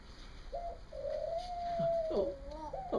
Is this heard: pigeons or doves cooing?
yes